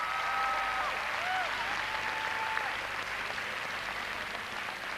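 Crowd applause at a 1998 ballroom dance competition in Boston after a slow foxtrot, a steady, fairly distant wash of clapping that holds throughout with faint whistle-like tones early on.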